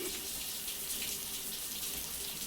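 Shower water runs steadily in a Death Stranding game scene, a continuous close hiss and splash that never pauses, with no talk over it.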